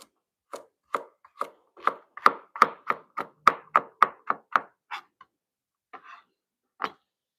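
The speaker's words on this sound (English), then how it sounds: "I'm going to cut my potato or my carrots up a little bit smaller." A knife chops carrots on a cutting board in a quick, steady run of about fifteen close, crisp knocks, then slows to a few scattered final cuts.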